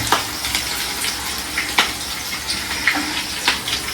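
Fish roe fritters frying in hot oil make a continuous soft sizzle and hiss with a few faint clicks, steady and moderately quiet, with no voices.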